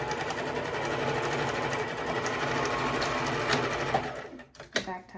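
A sewing machine runs steadily and close while finishing a face mask seam, then stops and gives a few short stitching bursts as it back tacks at the end.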